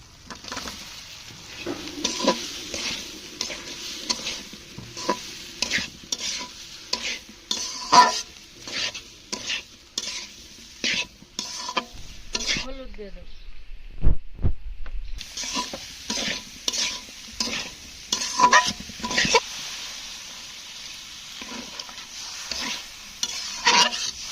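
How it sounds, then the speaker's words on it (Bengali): Potatoes tossed into fried spice mix for aloo dum, frying in a pan: busy sizzling with rapid repeated scraping and clanking of a spatula against metal, a short pause midway, then stirring resumes loud and close. "মশলাটা ভেজে নেওয়া হয়ে গিয়েছে আমি এবার আলুগুলো দিয়ে দেবো"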